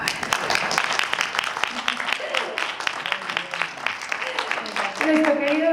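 Applause from an audience at a Lebanese film festival talk greets the guest speaker, dense clapping throughout with a voice starting to speak over it toward the end.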